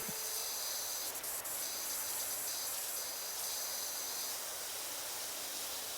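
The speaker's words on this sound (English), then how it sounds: "I like how it's spraying way over there too" A pressure washer's constant, loud hissing spray in PowerWash Simulator runs steadily throughout, with small fluctuations in the rushing water noise.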